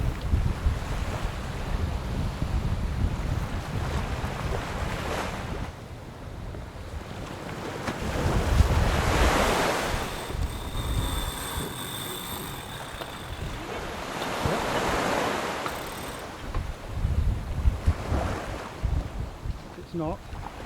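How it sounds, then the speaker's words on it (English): Wind gusts at sea aboard a sailboat, buffeting the microphone in strong surges over rushing water and surf. "Bit of wind."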